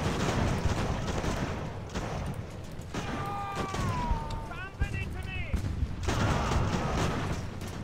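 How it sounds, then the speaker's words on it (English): Musket volleys and artillery fire crackle and boom in a continuous battlefield din during a naval-era land battle in Ultimate Admiral: Age of Sail, with someone talking over the steady gunfire. "We got these guys caught in the crossfire."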